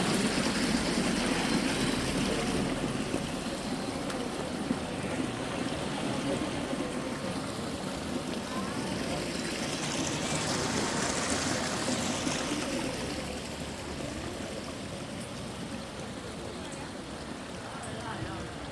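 Steady wash of a flowing stream, a continuous broadband rush and trickle of water that stays fairly loud throughout and eases off slightly toward the end.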